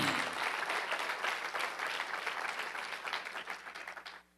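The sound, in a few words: church congregation applause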